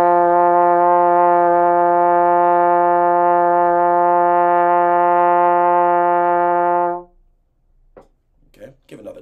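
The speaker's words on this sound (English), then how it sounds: "Some people get a kind of a middle-ish sound," Sustained middle-pitched trombone buzz played with the mouthpiece, held steady and loud for about seven seconds, then stopping before a voice speaks briefly.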